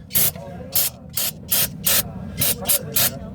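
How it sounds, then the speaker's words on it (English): Brake cleaner sprayed onto the oil tray of a Can-Am Maverick XRS: eight short, sharp hissing bursts in an uneven rhythm, close and loud, over a low background rumble. "I'm going to go ahead and hit this with a little bit of brake cleaner"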